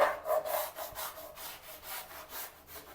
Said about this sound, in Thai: ผมไม่ได้ขัดแรงนะ เนี่ยขัดเบา ๆเนี่ยนะครับ